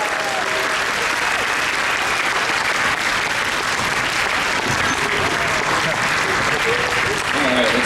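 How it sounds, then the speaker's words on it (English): An audience at a convention's opening ceremonies applauds its directors and volunteers with dense, sustained clapping that fills the whole stretch, with a voice faintly underneath. "round of applause for our directors and for all of our volunteers"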